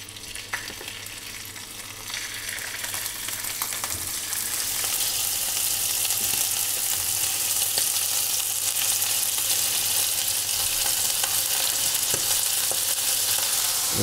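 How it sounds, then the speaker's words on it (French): Scallops sear in hot clarified butter with a loud, continuous sizzle that swells and then holds steady, dotted with a few faint pops and crackles. "J'ai mis du beurre clarifié, ça me permet d'obtenir une haute température et on va faire cuire les Saint-Jacques"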